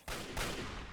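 Short, loud burst of gunshots striking the player in the video game Fallout 3, with a sharp onset and a second hit following quickly.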